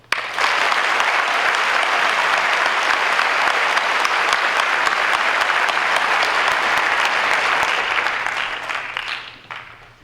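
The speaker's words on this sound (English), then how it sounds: "if y'all could join me for a round of applause" Sustained audience applause fills a military change of responsibility ceremony, dense and steady for about eight seconds before tapering off near the end, with no talking over it.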